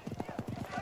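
Horse hooves clip-clop in a quick, uneven run of hollow beats in a Western setting, close and steady, with a voice murmuring faintly underneath.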